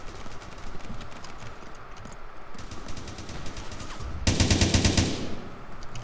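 In the blocky shooter Blockstorm, rapid gunfire crackles in the background, then a loud, heavy burst hits near the end, like an RPG rocket going off.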